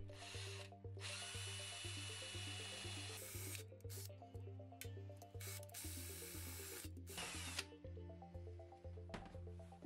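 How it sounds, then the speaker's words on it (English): A power drill bores holes into an electrical panel cover, several bursts of whining drilling close by over a steady backing of music, starting and stopping repeatedly. "Drill the holes."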